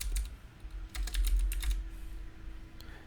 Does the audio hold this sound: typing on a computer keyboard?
yes